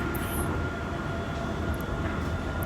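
The Kalayang skytrain at Soekarno-Hatta airport, built by Woojin, rumbles steadily as it runs along its guideway, a continuous close-up hum and rattle with no talking.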